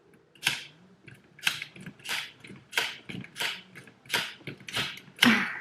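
Knitting needles clicking steadily through a sock rib, a series of light, crisp taps repeating at an unhurried pace, close and fairly quiet with no talking.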